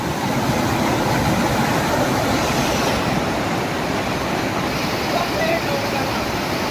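River water rushing steadily during a river crossing, a loud continuous broadband roar with no breaks, close by and filling the whole stretch.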